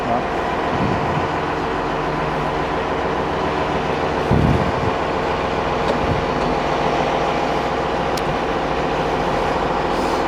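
A Bulgarian-made MDD5 locomotive runs with a steady low diesel drone and rumble, joined by a brief metallic clank and a few faint knocks and squeaks, heard close and continuous throughout.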